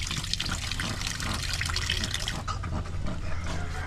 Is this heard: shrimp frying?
no